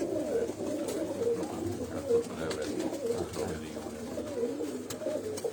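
Breeder pigeons in a cage at a loft coo in soft, repeated throaty phrases, moderately close, over a faint background murmur.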